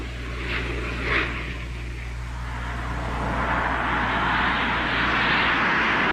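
An RF-4C reconnaissance jet of the US Air Force in Vietnam passes with a steady engine roar. The sound swells into a broad, rushing wash in the second half and stays loud and continuous.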